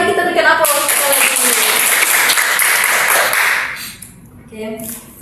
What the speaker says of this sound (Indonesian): Mari kita berikan aplaus sekali lagi